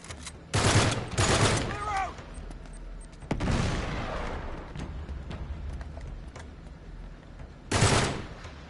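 Gunfire in the game Uncharted 3, with loud close bursts of automatic shots at the start and end and a booming blast in between, over a murmuring background.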